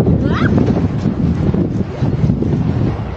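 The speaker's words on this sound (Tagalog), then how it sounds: "Oh, mahangin. Sarap ng hangin." Wind buffets the microphone in a constant low rumble on a mountainside strawberry farm, with a brief high squeak early on and no clear talk.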